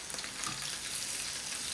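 Pieces of chicken frying in a pan as the liquid cooks off, a steady bright sizzle and crackle with dense spitting, close and fairly quiet, no voices.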